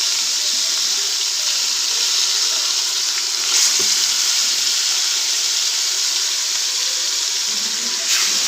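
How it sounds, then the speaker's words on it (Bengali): Shing and pabda fish fry in hot oil in a pan, giving a loud, continuous sizzle that stays steady throughout, with a couple of short sharper crackles. "তো মাছগুলো দিয়ে দিলাম, এগুলো ভাজো"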